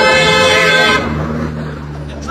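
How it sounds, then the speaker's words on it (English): Car horns honk on a city street: a loud, sustained horn blast lasting about a second, then it gives way to lower traffic noise. "I thought they were honking at us."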